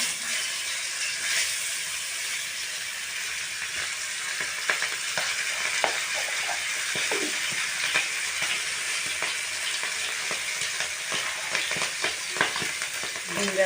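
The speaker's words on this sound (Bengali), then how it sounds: "ডিমটা এখন আমি ভাজা নেব।" Duck eggs fry in a pan for a Bengali potato curry, giving a steady broadband sizzle with scattered pops and crackles, close and alone.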